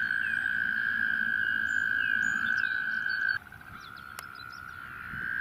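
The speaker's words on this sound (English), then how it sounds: "Green frogs can be seen swimming through the middle of the pond." A steady frog trill carries over a pond where green frogs swim, then cuts off abruptly partway through, leaving quieter background calls and chirps without any talking.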